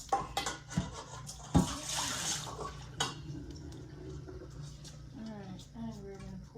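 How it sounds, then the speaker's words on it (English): A blender jar or soup pot rinsed under a running kitchen tap after cooking an autumn soup, with steady splashing water and a few clunks of the container, close and moderately quiet. "I'm just going to rinse this off really quick."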